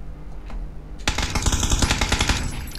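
Rapid bursts of automatic gunfire erupt after a brief quiet moment, loud and continuous, like weapons firing in a shooter game.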